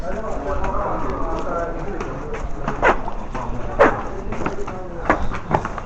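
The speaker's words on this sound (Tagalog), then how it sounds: "may aso na humahabol, boy." A dog barks a few times at a distance, under continuous background talk and footsteps from people moving outdoors.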